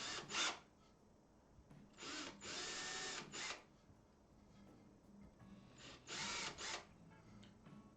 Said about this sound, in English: it's actually fairly important that you drill straight because they are round